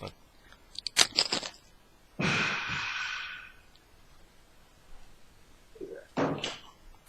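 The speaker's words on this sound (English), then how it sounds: "I'm going to close my door because the guys are dropping weights in the gym." A door closes in a room next to a gym, giving a few sharp knocks and then a scraping swing and a thud. Brief clatters follow, and voices are faintly audible.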